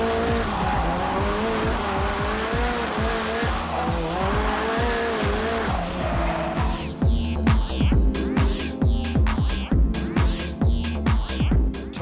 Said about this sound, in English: We jumped on board with Darren Muse in his S14 for a wild ride.